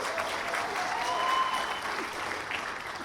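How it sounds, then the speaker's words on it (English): Audience applause at an awards event, a steady wash of many hands clapping at moderate volume that continues throughout the short stretch. "She said Myron, but y'all were still applauding."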